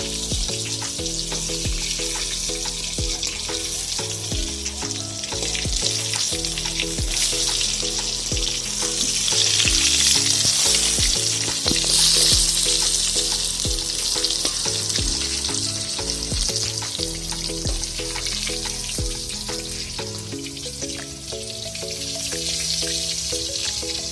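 Eggplant slices fry in a pan with a constant crackling sizzle that runs the whole time beneath steady rhythmic background music, with no speech.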